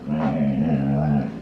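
A freshly bathed dog gives a loud, close, drawn-out whining growl that lasts about a second before trailing off.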